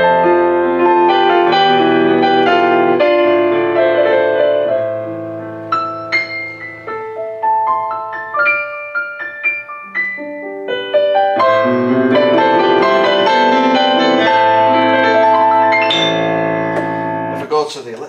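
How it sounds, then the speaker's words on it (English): Concert grand piano preset on a Roland FP-90X digital piano plays a flowing passage of chords and melody, loud and close, with no voices. "like this concert grand piano"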